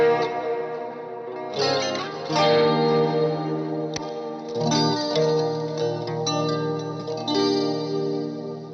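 Electric guitar run through an acoustic simulator pedal, strummed chords with a hollow, thin, fake acoustic tone and chorus-like shimmer, sustained and ringing, close and fairly loud with no talking.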